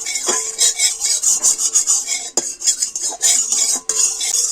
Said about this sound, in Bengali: আর ঘিটা এবার কড়ার চারিধারে একটু ভালো করে ছড়িয়ে দেব।